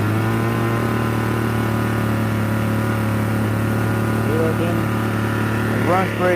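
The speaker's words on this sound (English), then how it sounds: "it runs pretty good. Right now it's kind of loud, it's idling" A leaf blower engine with a replaced plastic fan housing idles steadily up close, a loud, even buzzing hum that holds throughout without revving.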